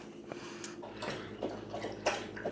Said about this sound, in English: what the dog is drinking her water. It's very loud